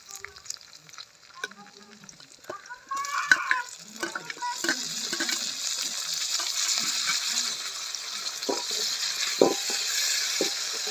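Onion and tomato frying in a pan during outdoor cooking in a Jaffna garden, a quiet start that swells into a steady close sizzle with scattered clinks, distant chickens clucking and a brief voice.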